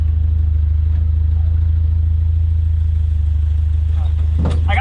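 A 1972 Opel GT, revived after decades sitting in a junkyard, runs steadily as it is driven, its low engine drone constant and loud throughout, with a brief clatter and a voice near the end.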